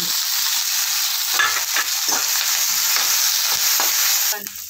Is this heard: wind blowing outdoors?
no